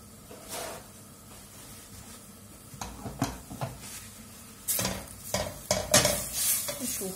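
Merguez sausage sizzling in a pan over gentle heat, with repeated scraping stirs and clinks of a utensil against the pan, growing busier toward the end.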